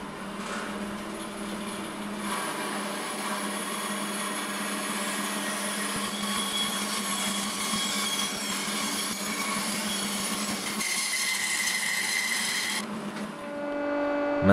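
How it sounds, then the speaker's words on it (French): A steady, loud mechanical whine of a band saw ripping a piece of wood for a multi-ply guitar neck, continuous for the full length, with a shift in tone near the end. "puis je refends ce morceau à la scie à ruban."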